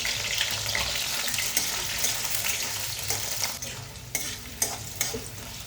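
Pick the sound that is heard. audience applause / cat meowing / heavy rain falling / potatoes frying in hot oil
potatoes frying in hot oil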